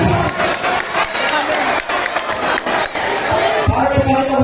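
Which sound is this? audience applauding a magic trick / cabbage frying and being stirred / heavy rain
audience applauding a magic trick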